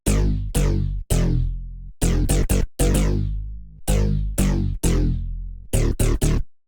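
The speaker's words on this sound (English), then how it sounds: "Bass Skip is really crunchy and punchy and sounds like this." Bass Skip, a crunchy, punchy synth bass sample for bass house, fires a series of sharp, distorted stabs in a clipped rhythm, some cut short and some ringing out, loud and upfront with no other sounds.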